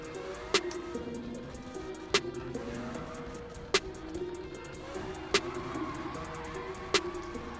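A car drifting in Need for Speed 2015, its engine droning steadily under repeated sharp transient clicks spaced roughly every second and a half, with no talk.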